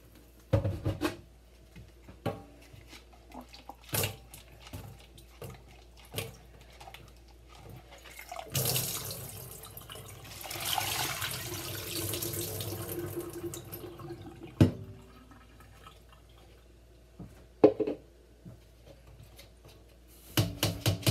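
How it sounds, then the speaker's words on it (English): Tap water running into a jar at a kitchen sink, filling it to soak alfalfa seeds for sprouting; a long steady gush in the middle framed by scattered knocks and clinks of glass on the sink. "We'll fill this up with water."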